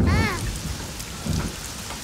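Rain falls steadily in a Tamil action film scene, a dense close hiss with a brief tonal sweep at the start and low rumbling swells beneath.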